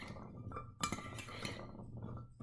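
Cucumber chickpea salad is stirred in a bowl, with soft clinks of a utensil against the dish and a quiet wet tumbling under a low background hum, a few brief scraping strokes.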